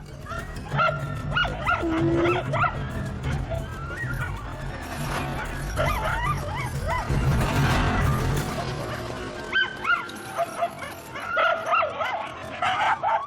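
A pack of sled dogs on Arctic ice barks, yips and whimpers excitedly at an approaching polar bear, a dense overlapping chorus of close, loud calls with whines running throughout.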